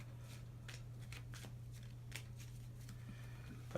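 A deck of board game cards for the Battle Bears board game is shuffled in a few quick, papery riffles and flicks, quiet and close over a steady low hum.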